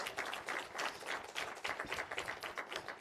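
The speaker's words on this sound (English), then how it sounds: "Maybe we can also give them a round of applause from here on out to all of the winners" Applause for award winners at the SensUs 2021 event, a scattered patter of claps from a modest group that stays fairly even and moderately close across the whole stretch.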